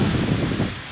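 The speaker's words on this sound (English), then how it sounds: "Very windy, it's good." Strong wind buffeting outdoors on Koh Samui, a steady loud rush across the whole short moment.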